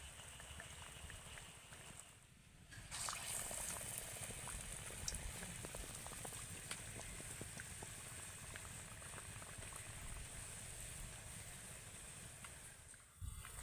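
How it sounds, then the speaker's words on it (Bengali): Cauliflower chops deep-frying in plenty of hot oil in a home kitchen, a continuous close sizzle and bubbling crackle with scattered pops, steady and alone with no voices. "তেল একটু বেশি দিলে কি হয়, অনেকগুলো চপ একসাথে ভেজে নেওয়া যায়"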